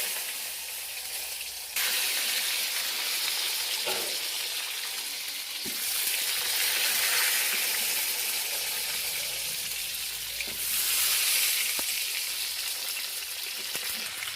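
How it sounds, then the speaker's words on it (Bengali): Eggplant pieces drop into hot oil and fry with a loud, steady sizzle, for a dish of hilsa fish in thin gravy with eggplant. The sizzle surges sharply at several points, as if stirred or freshly added, and continues with no one speaking. "এবার আমি বেগুনগুলোকে তেলের মধ্যে দিয়ে দেবো।"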